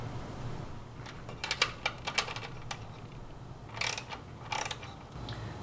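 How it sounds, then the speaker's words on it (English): A 5/16 inch socket wrench loosens nuts from the control board of a Star two-sided grill, giving quiet, close, irregular ratcheting clicks in short clusters over a low background hum. "Remove the nuts and spacers from the control board using a 5/16 inch socket."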